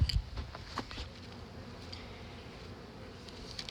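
Honeybees buzzing during a hive inspection of a swarm-caught colony due for requeening, a faint, continuous hum with a few soft knocks and bumps at the start, no talking.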